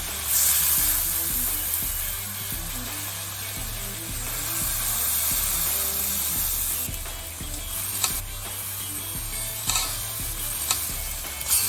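Fish stir-fried with Chinese cooking wine in a wok for Sichuan-style sea bass with pickled mustard greens, producing a steady sizzle with rhythmic scraping and stirring, close and continuous, with occasional sharp clinks near the end.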